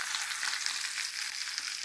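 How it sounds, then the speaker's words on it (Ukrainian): Chicken pieces sizzle steadily in a hot frying pan at home, a dense, even crackle close by with no voices. "Ось курочка жариться."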